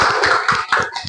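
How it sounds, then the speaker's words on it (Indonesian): Small group of students clapping for a presenting group, a few distinct, uneven claps close by in a short burst. "kita berikan tepuk tangan untuk kelompok 2"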